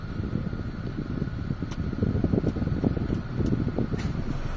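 A Mitsubishi Lancer idles with its air conditioning just switched on, a steady low mechanical whir and fan rush filling the cabin, with a few faint clicks over the hum.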